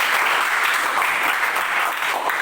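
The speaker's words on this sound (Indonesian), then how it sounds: "Oke, tepuk tangan dulu." A classroom of children claps together during a lesson, a thick, steady wash of hand claps that stays loud and even throughout.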